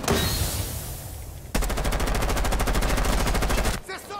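Automatic gunfire in the tactical shooter Rainbow Six Siege, a short burst followed by a longer rapid, evenly spaced stream of close, loud shots that cuts off abruptly near the end.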